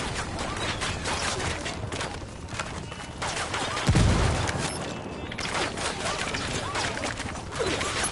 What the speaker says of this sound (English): Mortars incoming. Get to cover.